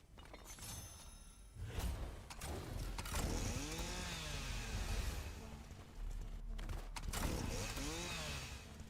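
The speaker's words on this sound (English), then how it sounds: "Is that a chainsaw?" In a spooky-season Fortnite match, a chainsaw snarls in bursts of revving engine noise. Revving pitch sweeps rise and fall between rough mechanical clatter and a brief quiet gap, loud and close throughout.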